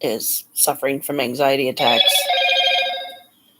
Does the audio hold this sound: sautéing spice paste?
no